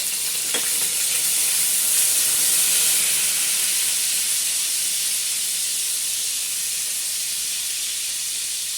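Potato pieces frying in hot oil with cumin and a bay leaf, a steady loud sizzle that continues throughout with a brief clatter near the start.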